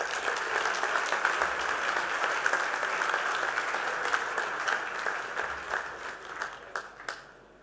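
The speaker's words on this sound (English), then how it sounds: "Would you bring to the stage, with a round of applause, Justin Wang, ladies and gentlemen." Applause from an audience at an awards event, welcoming someone to the stage; steady dense clapping throughout that thins into a few scattered claps near the end.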